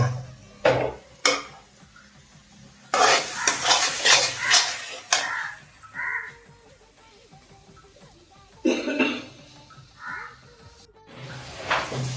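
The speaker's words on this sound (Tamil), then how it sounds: "மசாலாவில் போட்டு நல்லா மிக்ஸ் பண்ணிக்கணும்" Fish pieces being tossed and mixed into masala for a fish curry in a metal vessel, with repeated bursts of scraping and clattering between quieter pauses, close and fairly loud.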